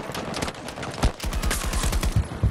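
Rapid bursts of automatic gunfire from an enemy soldier in the shooter Battlefield 2042, dense repeated cracks that grow louder and more intense partway through, with no talk over them.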